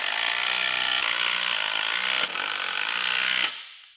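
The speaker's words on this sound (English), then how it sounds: "We'll use an impact to tighten these down." Impact wrench driving down carbide bolts on aftermarket snowmobile skis, a loud continuous rattling whir that holds steady, briefly checks, resumes, then cuts off and trails away, with no talking.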